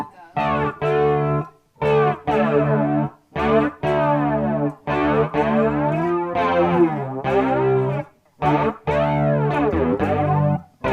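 Electric guitar played through a TC Electronic Afterglow chorus pedal, a run of short strummed chords and notes with a shimmering, warbling modulated tone and slight grit, loud and close with brief gaps between phrases.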